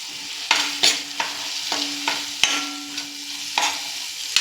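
Crushed peanut powder sautéed in a pan, with a soft continuous sizzle broken by a series of sharp spatula scrapes and taps against the pan at irregular intervals, close and clear with no voices.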